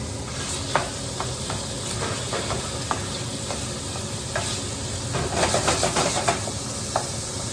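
Peppers, onion and celery sizzle together in a pot for chili, cooked without added oil, giving a steady frying hiss with scattered clicks and stirring knocks, busier toward the end; no talking.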